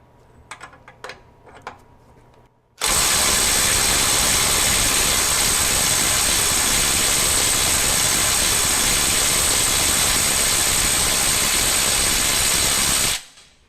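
A Ryobi 18V One+ HP compact impact wrench drives a bolt at 400 foot-pounds. Faint clicks give way to a loud, steady buzzing roar that runs unbroken for about ten seconds and then cuts off abruptly.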